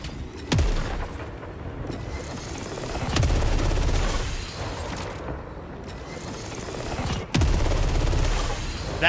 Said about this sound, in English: That's the alt fire in the gun.